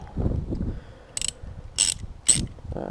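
A socket ratchet loosens the sump drain bolt during a car oil change, giving three short bursts of clicking up close, with faint low handling noise between them.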